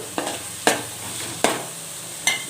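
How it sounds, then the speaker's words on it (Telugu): Raw prawns fry in a pan with tomatoes for a gongura curry, giving a steady sizzle broken by four sharp stirring scrapes at even intervals. "ఇప్పుడు ఇందులోనే రొయ్యలు కూడా వేసేసుకుందాము రొయ్యలు కూడా వేసేస్తాను"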